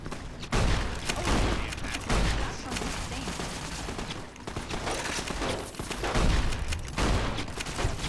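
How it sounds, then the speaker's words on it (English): Gunfire in the video game Fallout New Vegas as a wall is shot: dense, loud bursts of shots continue through most of the stretch, with brief gaps between volleys. "Watch as I shoot this wall."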